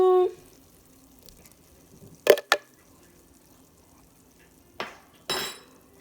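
A spoon clinks and scrapes against a pot while shoyu chicken is stirred, in a few sharp metallic bursts separated by quiet stretches with faint low simmering.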